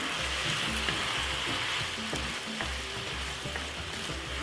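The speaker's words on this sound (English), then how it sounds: "This beef is a quick stir fry, so it's not too long to cook" Beef stir-fries with oyster sauce in a hot pan, giving a close, continuous crackling sizzle with a few sharper pops and utensil taps.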